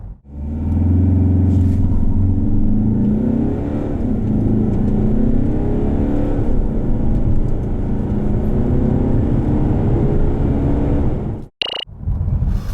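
A 2019 Peugeot 508 GT with the 2.0 BlueHDi diesel pulls away hard from a standstill, its engine droning loudly and rising steadily for about eleven seconds before a brief gear-change dip and whoosh near the end.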